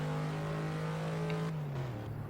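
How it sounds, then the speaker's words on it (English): A straight-six car engine revs hard in the Assetto Corsa racing game, a loud steady drone holding pitch before sliding down as it shifts or lifts, with a faint tire chirp near the end. "I think it's got a straight 6 engine. Obviously sounds a bit more racy than the Lada."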